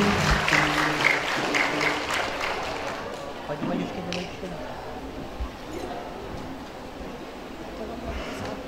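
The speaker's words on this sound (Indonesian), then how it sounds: "Kita berikan tepuk tangan yang paling meriah Bapak Ibu." Applause from a seated audience at a 2024 anniversary gathering of private madrasa teachers in Dumai, honouring a retiring teacher; lively clapping for about three seconds, then dwindling into quieter room noise with scattered faint sounds.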